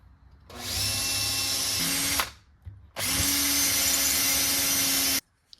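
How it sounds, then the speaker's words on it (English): A power drill bores holes through a forged knife handle in two long, loud, steady bursts separated by a short pause, ending abruptly. "Now I can just go ahead and drill the holes."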